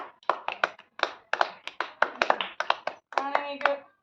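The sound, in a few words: people clapping for the prize winner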